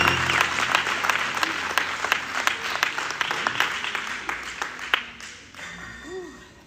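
Church congregation clapping hands in praise, a loud rhythmic crowd clap with distinct beats that gradually thins and fades, with voices rising briefly as it dies away.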